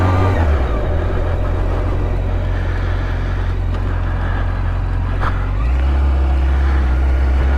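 A 2005 Triumph Daytona 650 motorcycle engine on a test ride, running on 91-octane non-ethanol fuel, drones loud and close, with a gear or throttle change shifting its pitch partway through, and no speech.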